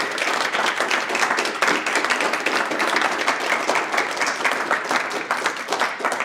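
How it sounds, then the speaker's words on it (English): An audience at an author talk claps and applauds steadily for several seconds, a dense, even wash of many hands filling the room without pause. "Let's give him another round of applause."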